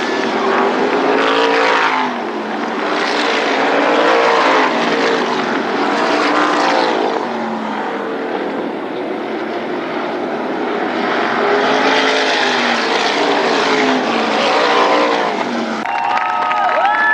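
Super Spreads sprint cars closing out a 30-lap feature at Berlin Raceway in 1999, a loud, continuous roar of several engines with whining pitch sweeps as cars pass and rev, sustained and close without talk.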